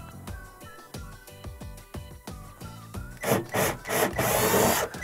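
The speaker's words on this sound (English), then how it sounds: "I'm gonna drill my holes." Rhythmic woody percussion gives way after a few seconds to a loud, steady power-drill whine drilling holes in a wall to mount a built-in microwave plate, bursting in short pulses and then running continuously, close by.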